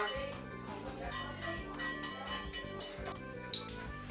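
A whisk clinks and taps against a bowl while yogurt sponge cake batter is mixed, fast repeated metallic clinks running under quiet background music.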